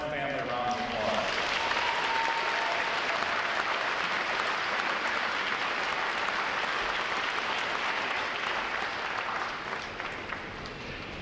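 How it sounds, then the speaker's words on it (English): Sustained applause from a large crowd at a U.S. Navy recruit graduation ceremony, steady and dense for about ten seconds before tapering slightly at the end. "Let's give all the friends and family a round of applause."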